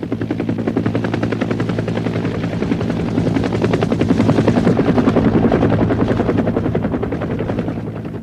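A Cobra military helicopter at Fort Carson, Colorado, rotor chopping loud and close in a steady pulsing thrum that swells slightly mid-flight, with no voices.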